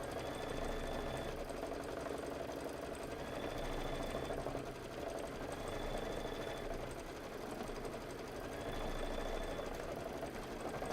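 Machine stitching on a table topper runs continuously, a moderate, steady whirring hum with slight swells in speed throughout, heard close and alone without speech.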